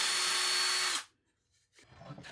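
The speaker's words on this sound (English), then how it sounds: "I'm going to drill it with the appropriate size drill bit here." A power drill with a number 12 bit bores loudly through a wooden board, running steadily for about a second before cutting off, followed by a pause and faint workshop handling noises.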